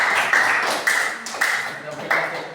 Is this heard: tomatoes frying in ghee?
no